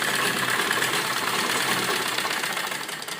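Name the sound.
sewing machine stitching along buckram edge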